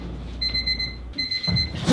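An electronic alarm clock beeps in two high, sustained tones, pausing briefly between them, with a low rumble and a soft thump underneath.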